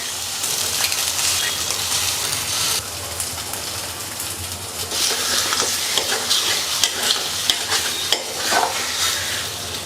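Eggs cracked into a pan and stirred for a village-style egg sambar: bright crackling sizzle with scraping and stirring noises, fairly loud and close, rising and falling in bursts without any voices.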